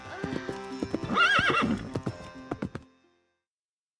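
Horse hooves clip-clop in a steady rhythm close by, with a whinny rising in the middle, then the sound stops abruptly after about three seconds.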